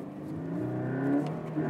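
Toyota GT86 engine droning steadily at mid pitch as the car drives along twisty back roads, a continuous moderately loud hum with slight rises as it accelerates.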